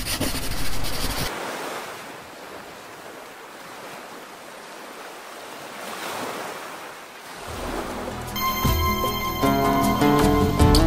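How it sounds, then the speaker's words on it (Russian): Surf washes onto a pebble beach of small green stones on the Montenegro coast, one broad surge swelling and receding with wind buffeting the microphone, then a louder noisy wash rising near the end. "Так, вот это пляж."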